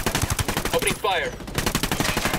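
Rapid automatic gunfire rattles in a Tom Clancy's Ghost Recon Wildlands firefight, loud and close, in sustained bursts with a short pause midway while a voice speaks briefly.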